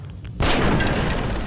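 A single sharp gunshot from an enemy in Fallout: New Vegas bursts out loud and close after a brief quiet stretch, then trails into a lingering wash of noise.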